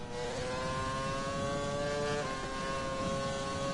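A silver McLaren race car in a racing video game holds a steady, buzzing engine drone at moderate volume, with a slight pitch shift partway through and no talking.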